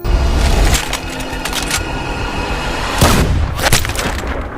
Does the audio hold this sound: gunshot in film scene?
yes